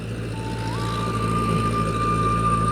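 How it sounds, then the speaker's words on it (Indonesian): A truck rolls along a street in Padang Panjang, its steady engine rumble joined by a rising electronic beep tone, close and continuous. "Anti lampu merah nih truk"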